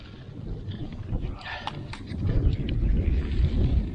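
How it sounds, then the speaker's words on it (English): Wind buffets the microphone outdoors in a garden on a cold, blustery day while drip irrigation lines are set up, a steady low rumble that swells louder toward the end with no voices. "Super cold and windy today too."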